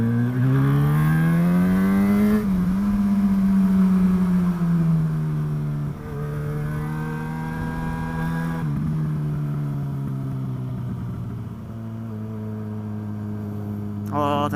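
A quad bike engine revs loudly and steadily nearby, its pitch rising and falling through several throttle changes as it runs past, with no talk over it.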